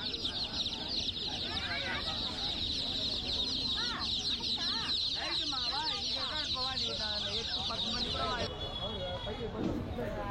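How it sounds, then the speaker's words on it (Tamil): Chickens and small chicks cluck and cheep continuously at a busy outdoor Friday market in Pallavaram, with high chirping throughout, while people talk nearby. "கோழிலே பார்த்தீங்கன்னா நிறைய விதவிதமான சின்ன கோழி குஞ்செல்லாம் காமிக்கிறேன்"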